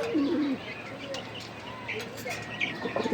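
Pigeons coo close by, low throaty calls with a few soft chirps, while a voice murmurs in the background.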